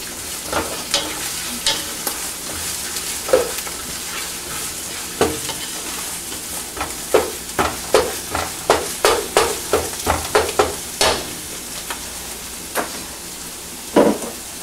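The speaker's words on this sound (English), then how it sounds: "my onions are frying" Continuous sizzle of onions frying in a pan with spices, punctuated by repeated sharp scraping taps of a utensil stirring, some in quick bursts.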